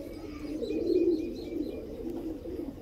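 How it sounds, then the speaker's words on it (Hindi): A pigeon coos nearby in a soft, low, throaty rolling call, with faint chirps from other birds in the background. "ये कबूतर भी आ चुका है"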